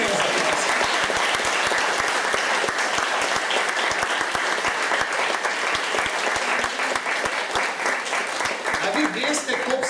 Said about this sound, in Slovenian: dajmo jim za aplavz, dajmo jim za aplavz.